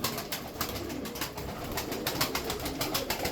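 Tumbler pigeons coo softly in a loft, low throaty calls mixed with fluttering and rustling, close and continuous with no speech.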